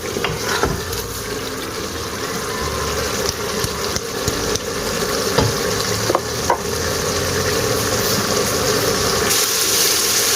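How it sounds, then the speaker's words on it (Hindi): Chana dal stirred and fried in oil in a pan, a constant close sizzle broken by scraping spoon strokes, with no voices. "ये दाल अच्छी तरह भून चुकी है।"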